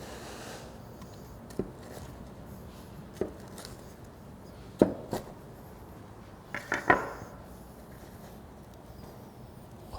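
A Cajun shrimp pizza being cut: scattered close knocks and scrapes of a cutter or knife against a tray or board, a few isolated strikes then a brief cluster, over a quiet background with no talking.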